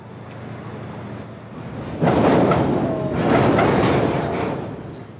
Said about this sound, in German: Der Zug hält plötzlich. Die Maquinistas ziehen die Bremsen der vorderen Wagen an.